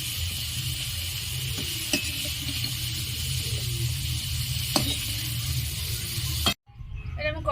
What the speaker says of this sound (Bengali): এরপর আমি আলুটা ভেজে নেব।